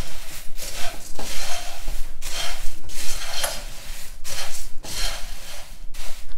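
Vermicelli for bhel puri being stirred and scraped around a pan, a steady series of loud rasping sweeps in an even rhythm, close and alone.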